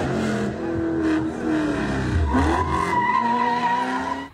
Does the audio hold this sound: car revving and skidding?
yes